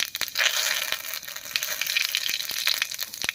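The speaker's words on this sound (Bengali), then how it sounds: "তেল গরম হয়ে গেছে তেলের মধ্যে দেবো সামান্য একটু গোটা জিরা" Whole cumin seeds and bay leaves hit hot mustard oil in a kadai, giving a steady close sizzling hiss scattered with small pops and crackles, no talking.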